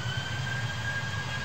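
Airport jet engine noise in Train Simulator 2015 on the Glasgow Airport Rail Link forms a steady, fairly faint whine and rumble with a thin high tone running through it.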